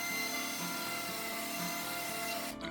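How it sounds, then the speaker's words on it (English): Continuous scraping and sanding on an old wooden table, a steady, dense rasping texture that holds for a few seconds before cutting off abruptly, close and moderately loud with no talk. "I'll just pause here while you enjoy the sounds of scraping and sanding for your listening pleasure."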